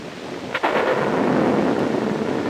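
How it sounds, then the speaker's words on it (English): A storm over New York brings a single sharp thunder crack followed by a rolling, rumbling tail that fills the clip, loud and close with no voices. "as the storm sweeps over New York"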